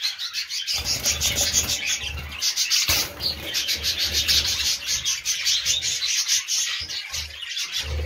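Caged parrots in an aviary with several birds to a cage, giving dense, continuous high chirps and twittering with scratchy rustling throughout, close and busy without pause.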